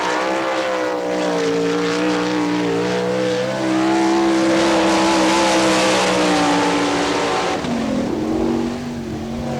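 Sprint car racing on a dirt oval at Wichita, Kansas, with an All Stars car running a qualifying lap, a loud, sustained engine roar, steady and high-revving, shifting pitch briefly as it passes through a turn.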